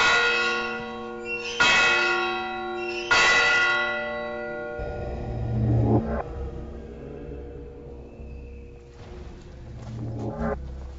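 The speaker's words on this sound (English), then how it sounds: "Here, time is tied to the rituals of the order with the clock bell." A clock bell at a Carthusian monastery in Portugal rings out with several loud, resonant strikes, each tone humming on in a long decay, with deeper rumbling tones further on.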